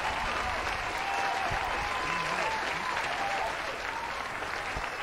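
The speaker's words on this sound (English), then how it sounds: "let's get some more applause here for Amon, for both of the runners." Continuous applause from a crowd, a dense even wash of clapping that holds steady throughout, with faint voices beneath.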